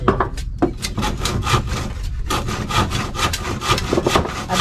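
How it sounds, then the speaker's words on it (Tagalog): A hand saw cuts through wood with quick, rough back-and-forth rasping strokes, loud and close, keeping up a steady rhythm throughout. "Ay, lagari kay Kwasa"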